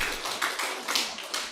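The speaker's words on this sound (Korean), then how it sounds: "박수 한번 쳐주세요, 우리 지휘자님." A church congregation applauds their choir conductor during a Sunday sermon, a dense, steady clatter of many hands with a few louder surges, lasting only a moment.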